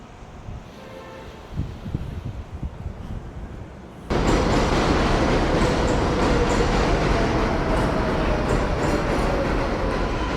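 A subway train at Court Square station in Long Island City, New York, arrives with a sudden loud roar that cuts in after a quieter stretch of ambient street sound, then holds as a dense, steady rumble and screech of wheels.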